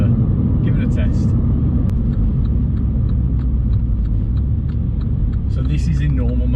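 Mini John Cooper Works cruising in normal mode, a steady low engine and road rumble continuous throughout from inside the car, with a person talking over it.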